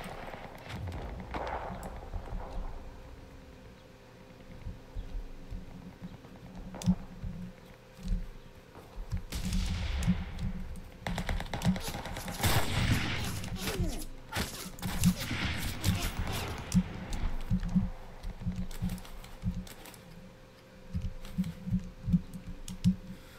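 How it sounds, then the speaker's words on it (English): Gunfire in the battle royale video game Cuisine Royale, scattered shots and bursts of varying loudness over a constant game background hum, some distant and some closer, no talking. "Where's these gunshots coming from?"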